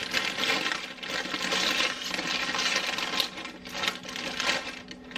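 Continuous crinkling and rustling of a plastic bag of egg noodles being handled and torn open up close, steady and fairly loud with no talking.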